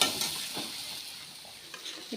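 A spice paste of curry leaves and skunkvine is added to hot oil with turmeric and salt and stirred in a pan for an Assamese dish. A short, steady, close sizzle is broken by light stirring scrapes.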